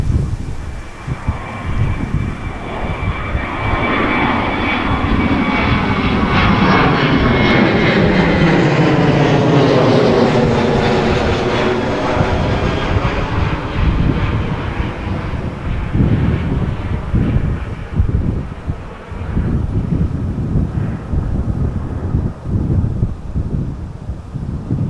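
A Cargolux Boeing 747-400 roars loudly down the runway and climbs away at windy Amsterdam Schiphol, its swelling jet-engine rumble sweeping past and fading under heavy wind buffeting on the microphone.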